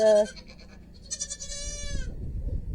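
A goat in a pen gives a loud, wavering bleat, then a second higher, drawn-out bleat follows, with faint rustling and shuffling in the background.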